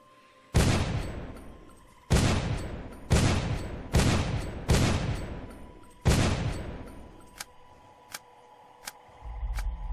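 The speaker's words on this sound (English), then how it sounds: "Oh yeah, that shotgun, it really shreds." Six loud, booming shotgun blasts in the first-person shooter Dark Skies, spaced about a second and a half apart with ringing decays, followed by a few sharp clicks and a low rumble.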